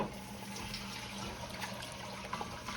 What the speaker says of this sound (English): we're gonna add our water to this.